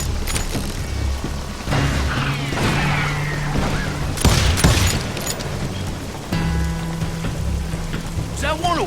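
Gunfire in Call of Juarez Gunslinger comes as scattered bangs and rattling shots mixed with a noisy game backdrop. One heavy burst sits midway through, with voices in the mix.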